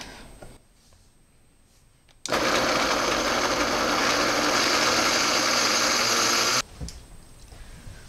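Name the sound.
blender blending soaked ingredients until smooth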